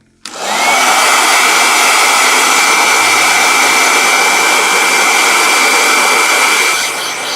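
A blow dryer switches on abruptly and roars loud and steady at close range for several seconds, its whine holding level before easing slightly at the end.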